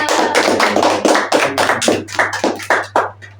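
A small group in a counselling session claps together after finishing a game: about a dozen distinct, close, fairly loud claps in a quick, uneven rhythm that slows and fades at the end.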